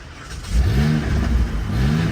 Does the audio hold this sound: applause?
no